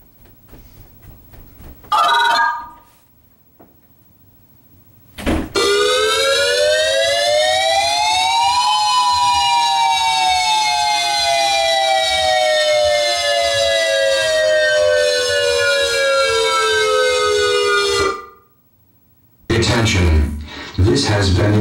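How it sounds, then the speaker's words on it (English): StormWARN outdoor warning siren sounding a loud test tone, rising then slowly falling in a long sustained wail, with brief noise bursts before and after. "This is a test of the StormWARN outdoor warning siren."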